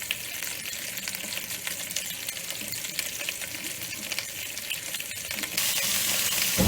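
Oxtail pieces brown in a hot pan for ragu, giving a constant close sizzle with fine crackling spatter that grows a little louder near the end.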